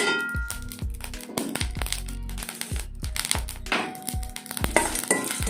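Spices for plantain flower biryani fry in a pan with a light sizzle, broken by repeated sharp metallic clangs and scrapes of stirring, with no voices.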